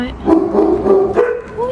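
Staffordshire terrier at an animal shelter giving a few short, close barks and yips, with a person talking over the dog.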